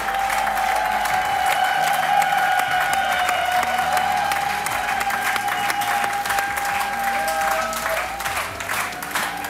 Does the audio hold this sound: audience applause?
yes